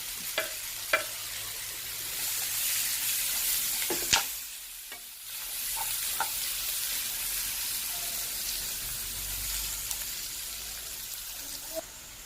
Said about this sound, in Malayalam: മെൽറ്റ് ആയി കഴിഞ്ഞാൽ രണ്ട് സവാള അരിഞ്ഞത് മീഡിയം രണ്ട് സവാള അരിഞ്ഞത് ഇടാം എന്നിട്ട് നന്നായി വഴച്ചെടുക്കുക